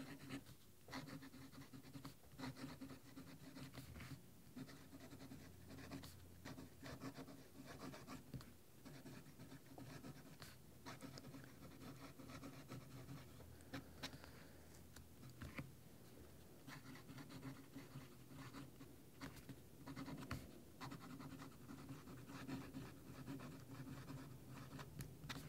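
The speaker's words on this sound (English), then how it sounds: "this pen is a little bit noisier" Merlin 33 vintage fountain pen nib scratching steadily across a Rhodia dot pad, a quiet, close, continuous papery rasp with small strokes and lifts, no talking.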